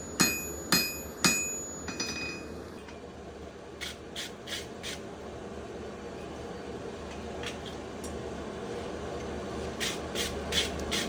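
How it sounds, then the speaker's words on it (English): Three sharp ringing hammer blows on a forge-welded billet of wrought iron and 1084 steel at the start, then a series of lighter metallic strikes over a steady forge roar. "I'll start more aggressively hammering on the billet."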